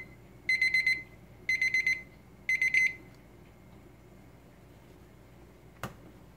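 A kitchen timer set while simmering jujube and pear tea rings in three quick bursts of rapid electronic beeping, each about half a second, then stops; a single faint click follows.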